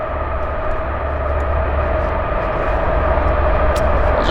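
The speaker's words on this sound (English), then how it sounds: "I don't know if you guys can hear this train in the background." A train rumbles past steadily in the background at a campsite near Banff, a continuous loud low rumble holding through the whole stretch.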